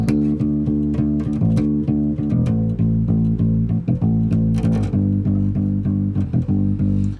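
Piano plays the "Awit Sa'Yo" chorus as repeated full chords, with light percussive ghost notes tapped between them as transitions; close, even and loud, with no voices.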